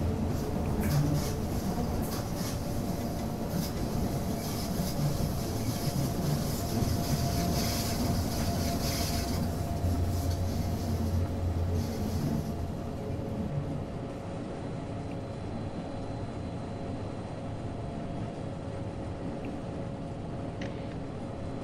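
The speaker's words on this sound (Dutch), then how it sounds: "Er komt een spooktrein de andere kant op." Aboard a train running from St. Moritz to Tirano, a constant rumbling rail roar fills the scene as another train passes going the opposite way, the louder rush easing after about twelve seconds into steady wheel noise.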